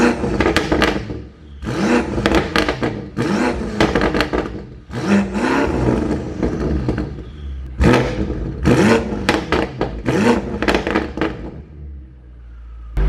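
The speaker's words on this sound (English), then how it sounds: "All right, since it's warmed up now, I'm gonna rev it a little bit for you guys." A tuned BMW X5M Competition with aftermarket downpipes revs hard in repeated bursts, loud and close, each blip rising and falling with crackles between, with no talk over it.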